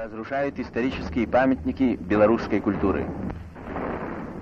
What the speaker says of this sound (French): On peut voir des explosions.